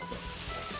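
Conch and pork jowl stir-fry in a hot pan with mala sauce, giving a brief, steady sizzle with a soft scraping stir, close and alone.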